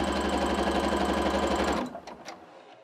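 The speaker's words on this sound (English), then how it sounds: "she's just lining up her fabric with the side of the presser foot and just pushing it straight" A sewing machine stitches quilt fabric for a courthouse step quilt block, running as a steady, close mechanical whir for nearly two seconds before it stops and a few faint clicks follow.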